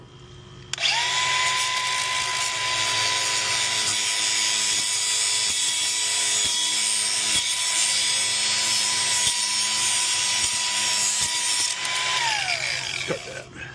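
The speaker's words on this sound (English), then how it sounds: "Cut the brake lines." Power cutting tool slicing through car brake lines during an OBS to IRS swap, a loud steady high-pitched whine that starts abruptly, holds for about eleven seconds with faint rhythmic ticks underneath, then winds down.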